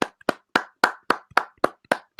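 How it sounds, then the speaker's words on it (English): Nine evenly spaced, sharp hand claps ring out alone in just over two seconds, close and crisp with nothing else around them, from an audience at a community event. "Please give him a round of applause."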